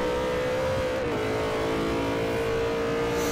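A BMW race car in Forza Motorsport 4 during a GT2 multi-class event, its engine holding a steady, loud, sustained drone throughout with no talk over it.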